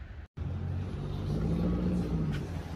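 A Jeep engine revving outside a dyno shop, a loud, low rumbling drone that rises and holds steady after a brief cut at the start, close and without talk.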